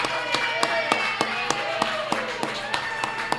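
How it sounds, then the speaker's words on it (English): A small group claps for a guest on a basketball podcast, giving a short run of sharp, evenly spaced claps close to the microphone, with faint talk underneath. "Round of applause for Keith Gregor."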